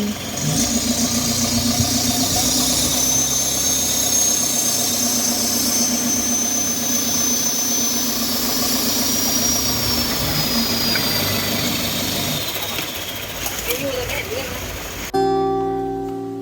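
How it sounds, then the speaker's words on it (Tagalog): A speedboat engine roars steadily throughout a ride on the waterways of Bangkok, a loud continuous drone with water rushing alongside, while people talk intermittently over it. "So balik nga kami dito sa speedboat."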